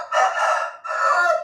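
A contest-class rooster crows twice, loud and close, the first call long and drawn out, a brief pause, then a second crow, with nothing else around it.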